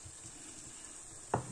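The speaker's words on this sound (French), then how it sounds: "vous le mettez dans une friteuse" Potato croquettes frying in a deep fryer, a soft steady hiss of hot oil with a brief clink or splash near the end.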